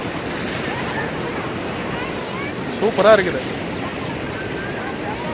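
River water below Mettur Dam rushes in a steady, broad wash throughout, while a voice speaks briefly over it near the middle.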